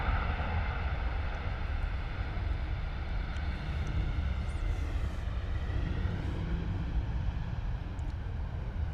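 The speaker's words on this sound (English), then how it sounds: "Another very quiet arrival there from the Ryanair 737." A Ryanair Boeing 737 jet arrives at an airport, heard as a soft, steady, broad rumble and hiss from a distance with no clear peaks, and no talk over it.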